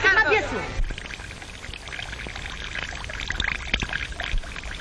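Water runs out of a water clock in a steady pouring trickle, with a brief louder splash at the start that then settles into a continuous dribbling wash at moderate level.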